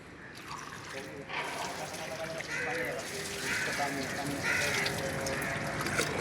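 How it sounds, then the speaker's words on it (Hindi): Plain water poured and trickling over a solar panel surface, a continuous splashing flow that grows slightly louder, with someone talking over it. "अब हम इस पर सादा पानी डालेंगे।"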